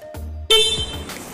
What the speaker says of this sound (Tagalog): Ngayon pakinggan natin gaano nga ba kalakas busina neto.